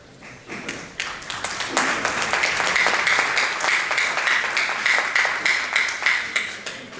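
An audience at a seminar on disability advisers applauds, with clapping starting sparse then swelling into sustained, moderately loud applause that keeps going with individual claps standing out.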